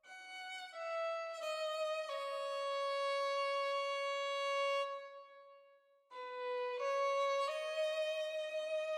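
Sampled violin library playing a top-line melody, smooth sustained notes stepping down in a slow phrase, a long held tone, a short break, then the phrase resuming, clean and alone.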